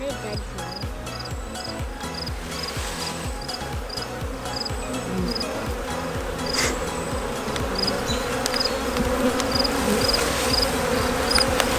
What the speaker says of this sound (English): A lot of little newly hatched bees.